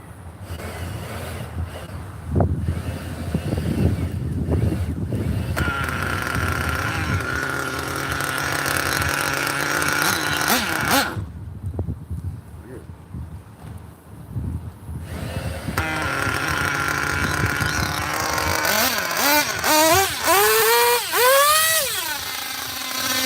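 A 27-year-old vintage nitro RC car engine runs with a rough, sputtering buzz that bogs and chokes when throttled, the note dropping out midway, then rising in wavering revs near the end.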